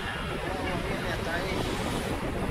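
Steady broadband wash of surf at Lake Worth Beach in West Palm Beach near sunset, continuous rushing water with wind noise on the microphone, no distinct breaking crash standing out.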